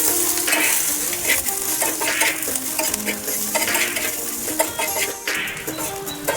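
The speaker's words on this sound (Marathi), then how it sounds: "सर्व जिन्नस लोखंडाच्या तव्यामध्ये छान भाजून घेतल्यामुळं आपल्या खरड्याला चव छान येते" Salt, cumin and green chillies dry-roast in an iron pan for a village-style mirchi thecha, with repeated scraping strokes and rattling grains under a soft sizzle, close and rhythmic, no voices.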